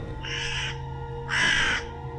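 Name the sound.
cry of a big bird in an audio story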